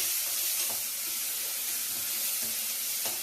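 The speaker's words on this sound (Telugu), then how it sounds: "అల్లం వెల్లుల్లి పేస్ట్ వేసిన తర్వాత ఒక 20 సెకండ్స్ అండి ఇలా బాగా పచ్చివాసన పోయేంత వరకు ఫ్రై చేసుకోవాలి" Ginger garlic paste frying in a pan gives a soft, steady hiss with a few faint spits, fairly quiet and close, with no talking.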